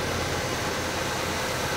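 A 1965 Chevrolet Impala, back on the road after 20 years, idles with the vacuum advance disconnected, giving a loud, steady broadband rumble with no voices.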